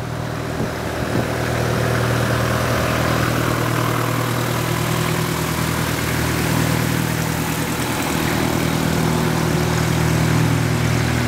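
A steady, loud engine roar with a low hum holds constant throughout, broad and unbroken, like a jet powering up nearby.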